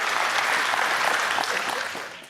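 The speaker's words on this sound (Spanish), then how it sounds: "Dale fuerte el aplauso" Church congregation clapping loudly and steadily during a sermon, a thick wash of many hands that holds evenly, then begins to taper off near the end.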